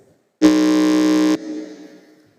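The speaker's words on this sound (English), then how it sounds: "let's hear the sound from the buzzer for New World School" A quiz contestant's buzzer, a loud, flat electronic blare lasting about a second, then cutting off into a fading echo.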